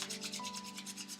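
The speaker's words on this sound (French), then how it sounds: "Je frotte mes mains encore une fois." Two hands rub briskly together in a quick, even back-and-forth rhythm, close and soft, with a faint steady hum beneath and no speech.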